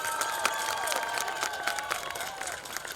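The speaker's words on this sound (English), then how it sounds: "give a round of applause to your family and your friends" Graduates at a high school graduation ceremony applauding their families and friends, a dense wash of clapping from a large crowd filling the hall, steady and moderately loud throughout.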